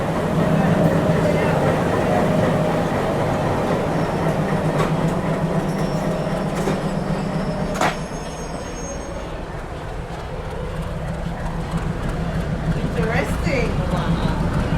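A train engine in Jamaica rumbles steadily with a low mechanical drone and rail noise, loud and close, dropping slightly in level partway through, with a brief sharp squeal and people talking over it.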